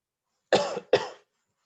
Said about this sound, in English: I'm sorry because of my cough.